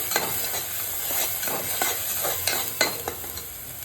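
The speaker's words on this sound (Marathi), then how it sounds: "वाटण केलेली मिरची आणि कांद्याची पेस्ट। तिला चांगले सोनेरी रंग येईपर्यंत फ्राय करायचे आहे।" Ground chili and onion paste fries in a pan for a pea and potato curry, with a constant bright sizzle and repeated rhythmic stirring scrapes, close and unaccompanied by speech.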